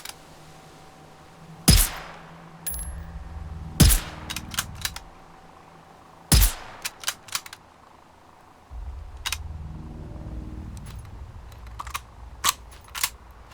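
Rifle shots fired at hostile robots in a shooter game, about a dozen sharp single cracks spaced irregularly over a quiet backdrop with low mechanical rumbles between them.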